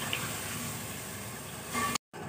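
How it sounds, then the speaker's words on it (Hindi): Water pours steadily into a cooking pot of fried potatoes and badiyan with a continuous, close splashing rush that swells briefly near the end before stopping abruptly. "अब इसके अंदर पानी डाल दिया"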